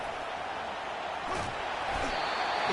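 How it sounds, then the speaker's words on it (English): A steady, dense crowd roar fills the background, an even wash of many distant voices with no single voice standing out. "he has this crowd noise behind him"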